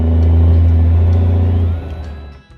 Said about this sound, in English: Not just the rumble of any diesel